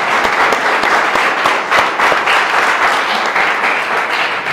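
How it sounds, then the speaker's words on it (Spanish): An audience applauds, a dense, loud burst of many hands clapping that carries steadily from start to finish. "un aplauso para ellos que ya están aquí"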